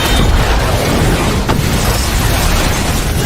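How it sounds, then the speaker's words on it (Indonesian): A fuel tank explodes in a sniper war film: a dense, roaring blast and heavy rumble that fills the scene continuously. It is loud and close, with a sharp crack midway through the sustained debris noise. "Brandon menembak tangki bahan bakar yang mengakibatkan meledak"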